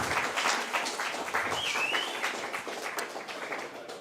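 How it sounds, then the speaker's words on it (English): An audience at a hip hop summit applauds, a dense patter of clapping that runs steadily and fairly faintly throughout, with no speech over it. "give them another round of applause"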